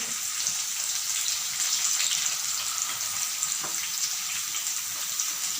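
Bajji fritters made from jiggujje, a jackfruit-type vegetable, fry in hot oil with a continuous bright, crackling sizzle. It stays steady and close, with no talk over it.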